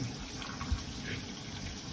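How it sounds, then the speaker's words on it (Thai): Water running steadily from a repaired under-sink kitchen faucet, a close, constant gushing flow with a light thump partway. "นี่น้ำไหลแล้วครับ"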